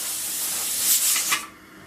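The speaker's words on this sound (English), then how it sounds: "See the steam flowing out of there?" Loud, rushing hiss of steam venting from a pressure canner as it builds pressure, swelling for over a second and then cutting off into a quieter hush.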